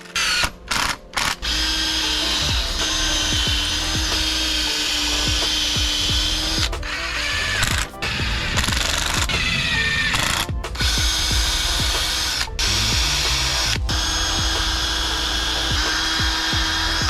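A power drill drives 2.5-inch wood screws to fasten 2x2 and 2x4 scrap lumber, whirring loudly and steadily at close range with brief pauses between screws.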